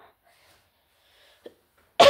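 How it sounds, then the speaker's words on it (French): A single sharp, loud cough bursts out at the very end after near silence, preceded by a faint small throat sound. "J'ai la toux."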